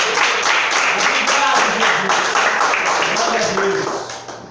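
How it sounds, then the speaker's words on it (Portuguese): A church congregation claps together in praise, a loud, steady patter of many hands with rhythmic accents that continues for several seconds before tapering off. "Aplauda o nome de Jesus, glória a Ele"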